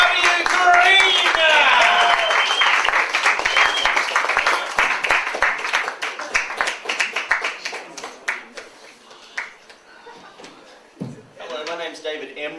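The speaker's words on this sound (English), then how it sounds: "So please, lovely round of applause for David W. Green." A live comedy show audience gives a comedian loud, sustained applause that gradually thins into scattered claps, with talk on stage near the end.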